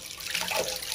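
Tap water gushes at a moderate stream for bathing a small dog at home, a steady hissing rush that fills the short moment, fairly close and loud with no voices.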